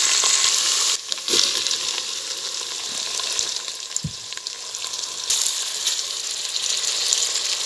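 Crushed ginger and garlic fry in hot oil with a bright, steady sizzle close up, broken by a few soft knocks and scrapes of a spoon in the pan.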